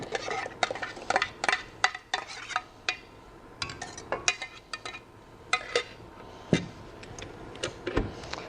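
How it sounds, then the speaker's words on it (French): Cherry bavarois mixture is poured into the bowl of a stand mixer, with a run of sharp metallic clinks and knocks from the bowl and utensils, close and fairly quiet, spaced irregularly with brief pauses. "On met notre cuve, on vient verser notre préparation"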